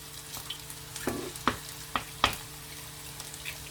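Cauliflower galettes fry in a pan with a soft, continuous sizzle, punctuated by several sharp crackling pops and spits of oil at irregular intervals; fairly quiet and close, with no talking.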